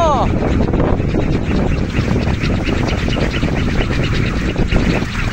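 Strong wind buffets the microphone in a steady, heavy roar on a hilltop with a kolecer wind toy, a voice speaking over the rushing gusts.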